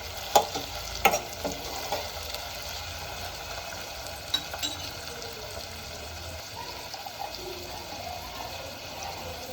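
Tomatoes frying in a pan for Rajasthani dal, a steady close sizzle with a few sharp clinks and scrapes of stirring early on, no talking.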